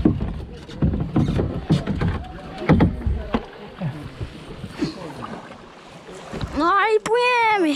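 Small boat moving off on open water, with splashing and wind buffeting the microphone, as people talk and call out nearby; a brief whistle-like tone rises near the end.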